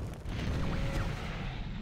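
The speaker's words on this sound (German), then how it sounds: "Und wir haben eine Explosion und einen Krater." A loud, rumbling game explosion with a dense low-end roar and crackling debris, sustained throughout with a brief whistling tone in the middle.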